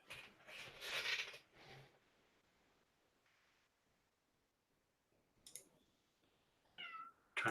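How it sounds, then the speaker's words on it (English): A cat meowing at a door wanting attention, several short close meows with soft clicks and a long quiet gap between them. "Sorry for the cat at the door."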